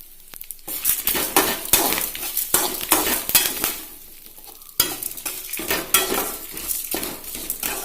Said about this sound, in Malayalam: ഇത് നന്നായി ഒന്ന് ഫ്രൈ ആവണം.